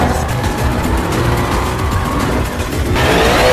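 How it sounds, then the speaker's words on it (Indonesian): Several cars roar through a drag race in a film scene, engines loud and sustained with tyre squeal and skidding noise in a dense, continuous wash close by. "mereka berempat mencoba untuk melakukan drag race."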